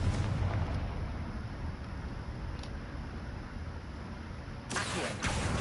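Confringo blasting spell explosions in the Hogwarts Legacy video game, a dense rumbling roar of blasts sustained throughout, with a sharper burst near the end, loud and close.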